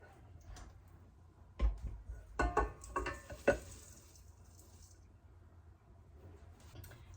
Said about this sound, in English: now we're finally going to add these dry ingredients